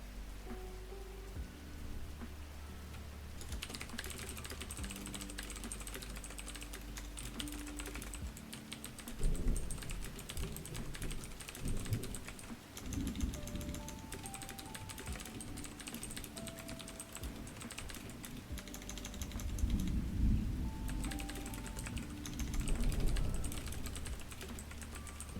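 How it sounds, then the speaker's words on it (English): Continuous clatter of typing on a mechanical keyboard, close and busy, with keystrokes in quick irregular bursts over a soft background of rain-like ambience and faint tones. "I do have a lovely mechanical keyboard and I do love it to bits"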